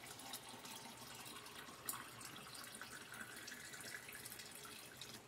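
Water runs steadily into a pot for fig syrup, a faint continuous splashing stream heard alone for several seconds.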